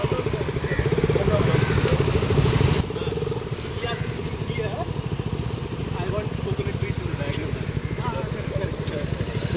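Motorcycles idle and rumble at a group ride meet-up in Mangalore, a steady close engine drone that drops slightly in level partway through, while someone talks over it.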